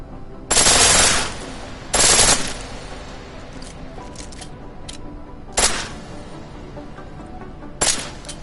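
Automatic weapon firing in full auto in the video game Deus Ex Mankind Divided: two loud sustained bursts early on, then two short bursts after quiet gaps, with faint background clatter between.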